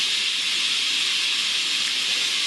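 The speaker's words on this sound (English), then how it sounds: "So I'll relieve the pressure off of it." Steam hisses steadily out of a pressure cooker during pressure release, a loud, continuous, even rush of hiss with no pauses and no voices.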